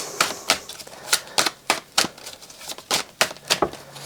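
Tarot cards are shuffled by hand during a reading, giving a quick irregular run of crisp slapping and riffling snaps. They are close and fairly loud, with brief quiet gaps between bursts.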